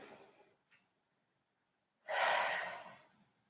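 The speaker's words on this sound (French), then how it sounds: "Inspirez par le nez." A single long breath drawn in through the nose during a Pilates strengthening exercise, breathy and fairly close, coming after a short stretch of near silence with a faint earlier exhale.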